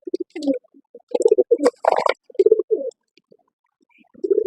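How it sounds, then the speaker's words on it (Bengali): Pigeons from a pair of Pakistani high flyer birds coo in close, loud bursts of throaty rolling calls, several phrases with short gaps, with no talking over them. "কবুতর দুইটা খুবই ছটফটে, আপনারা চাইলে এই জোড়াটা নিতে পারেন।"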